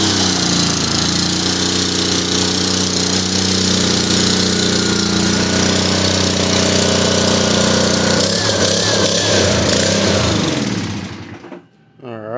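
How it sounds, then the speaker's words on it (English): A Troy-Bilt 3100 psi pressure washer with a Honda engine runs loudly and steadily with no water hooked up, then cuts off abruptly near the end and sputters to a stop. "You shouldn't run your pressure washer without water hooked up."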